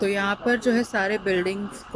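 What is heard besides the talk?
None of the usual background noises is heard.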